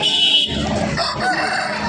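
A rooster crows loudly and close at a village chicken market, followed by a jumble of clucking and other fowl noise.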